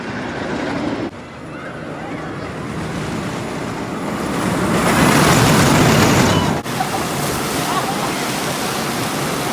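Water rushes loudly and continuously at the Penguin's Blizzard River rapids ride at Six Flags America, a broad roaring wash that swells in the middle and then settles back down.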